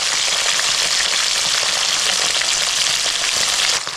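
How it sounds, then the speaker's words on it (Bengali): Fish frying gently in oil for a light browning gives a dense, even sizzle right up close, steady crackling that holds level and eases off slightly at the very end. "বেশি লাল করে ভাজবো না, হালকা লাল করে ভাজবো।"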